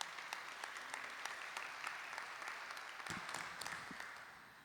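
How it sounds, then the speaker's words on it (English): A room of people gives a sustained round of applause for seven candidates, soft and even, fading slightly toward the end. "I would like to just give one more round of applause to the 7 candidates."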